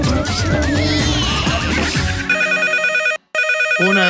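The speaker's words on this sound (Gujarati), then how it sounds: "ફોન આવ્યો કાકા" A telephone ringing in a radio comedy sketch, a loud repeated electronic ring pattern sounding in regular bursts after a busy stretch of music and effects, with a short gap of silence before it resumes.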